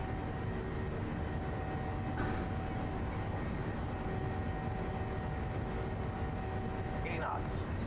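An airliner on its takeoff roll in Microsoft Flight Simulator, a steady, loud engine roar and rumble droning on without a break, with a couple of brief chirps over it.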